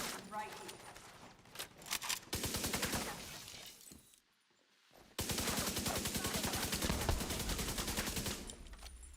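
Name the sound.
gunfire from a video game, Division 2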